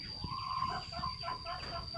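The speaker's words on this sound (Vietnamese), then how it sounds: "Nuôi gà đấy, gà này cúc cúc cúc cúc" Chickens on a chicken farm cluck faintly in the background, soft repeated calls over a steady high-pitched whine and low rumble of ambient noise.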